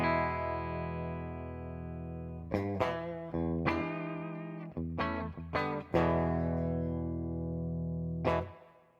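Dry electric guitar with only a light touch of spring reverb, several sustained chords and single notes ringing out with sharp pick attacks and clean decays, played alone and fairly loud.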